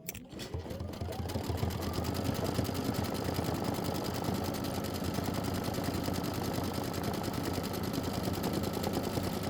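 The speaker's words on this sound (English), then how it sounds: "I'm going to slow down to 600 stitches per minute." Sewing machine stitching at 600 stitches per minute, a fast, even mechanical rattle heard close up, starting abruptly and running steadily throughout with no voices.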